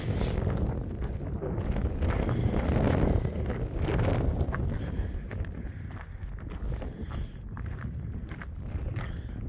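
Gusty wind on the sand-flats at Rye, East Sussex, buffets the microphone with a loud, rumbling roar that rises and falls throughout.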